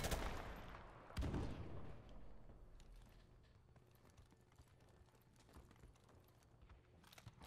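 Gunfire and explosions during a competitive online Call of Duty: Modern Warfare Remastered match, with a sharp blast early on followed by a steady wash of distant shooting and crackling battle noise at low level.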